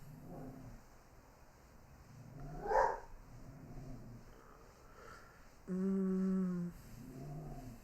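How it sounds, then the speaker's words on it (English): A dog barks a couple of times in the background of a room, with a louder harmonic yelp or whine partway through, faint and intermittent over low ambient noise. "No, that was my dog barking over top of it."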